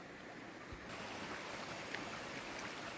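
A small stream flowing steadily nearby, an even rushing wash of water that grows a little fuller after the first second.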